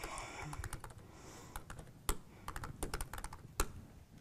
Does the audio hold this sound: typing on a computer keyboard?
yes